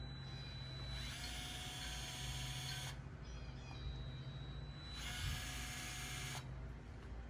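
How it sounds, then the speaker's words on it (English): A Craftsman 4V cordless gyroscopic screwdriver whirs in two bursts, each a high motor whine of about two seconds, with a short quiet gap between them and a faint low hum underneath. "press this button and then turn the screwdriver in the direction in which you desire the"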